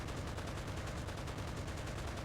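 Rapid aircraft cannon fire in the video game Enlisted, a dense continuous burst of shots shooting down a plane, steady and loud throughout with no pauses.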